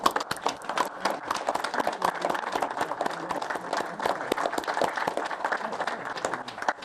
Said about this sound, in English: let's stand and give these people a nice round of applause